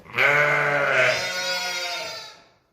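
A lamb separated from its mother lets out one long, loud, wavering bleat lasting about two seconds, close by and clear, with nothing else heard.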